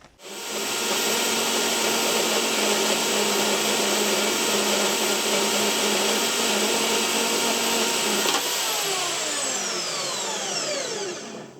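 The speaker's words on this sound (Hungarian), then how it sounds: "amihez a Vevor szalagfűrészt használtam" Steady, loud mechanical whine of a Vevor band saw cutting hardened steel without coolant, running continuously with a slight shift in tone near the end as the cut finishes.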